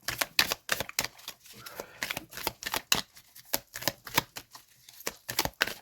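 An oracle card deck themed on the twelve astrological signs is shuffled by hand: rapid, crisp riffling bursts repeat in quick rhythm, close and fairly quiet, with no talking.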